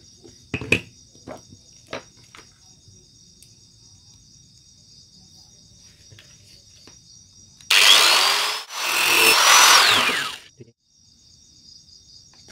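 A power tool buzzes loudly for about three seconds with a brief pause, cutting the heads off nails used to join wooden boards, after a few faint knocks and a steady high ringing tone.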